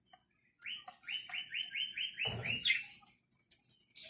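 Parakeets in a home aviary give a rapid series of bright repeated chirps, followed by a louder burst of overlapping calls and fluttering, fairly close.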